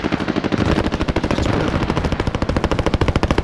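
Rapid automatic gunfire in Call of Duty: Warzone, a Battle Royale shooter, rattling in dense loud bursts through the whole stretch with no talk over it.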